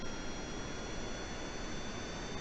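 Aircraft jet engines in Kerbal Space Program roar in a steady, dense, loud wash of noise with no talk over it.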